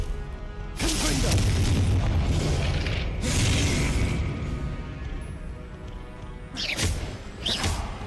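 Confringo blasting spells explode in the Hogwarts Legacy video game, several loud booming bursts spaced a few seconds apart, each with a crackling burst and a rumbling tail amid ongoing combat noise.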